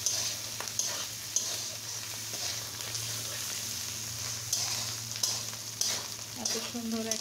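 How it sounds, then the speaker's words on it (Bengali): Onion stalks and shrimp frying in a pan give a steady, close sizzle, with occasional clicks of a utensil stirring through. No voices are heard. "খুব সুন্দর করে এটাকে আমি ভেজে নেব"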